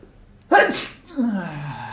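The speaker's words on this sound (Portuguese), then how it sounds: "Vou espirrar." One loud sneeze erupts up close, with a short intake before it and a trailing breathy sound after.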